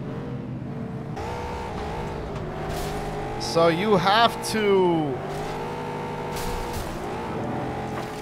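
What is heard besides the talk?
cars racing and slamming in FlatOut Ultimate Carnage video game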